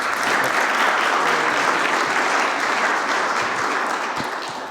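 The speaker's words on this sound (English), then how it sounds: "give her a warm applause." A conference audience at a Nordic Council economic policy launch applauds steadily for a welcome, a dense, even clapping wash that holds loud throughout and eases slightly at the end.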